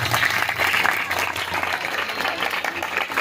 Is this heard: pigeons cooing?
no